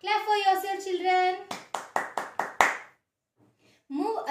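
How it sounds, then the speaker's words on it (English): After a voice speaks, about six evenly spaced hand claps ring out sharply in a kindergarten maths lesson, followed by a short silence and the voice returning. "Clap for yourself, children."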